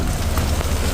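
Torrential rain pours down in a steady, dense broadband hiss with a low rumbling undertone, loud and continuous with no pauses and no talking.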